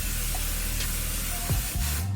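Hairspray sprayed onto a glueless closure wig: a continuous loud, close aerosol hiss filling the whole moment, with a couple of soft knocks near the end.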